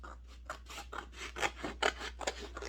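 Scissors cutting through paper for making pillow paper beads: a close series of crisp snipping and rasping strokes, about a dozen in a quick uneven rhythm, with no voices.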